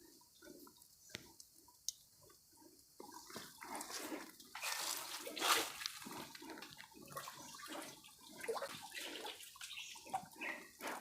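Spring water in a deep forest trickles and splashes in uneven spurts, with drips and gurgles that swell louder partway through, heard up close and with no one talking.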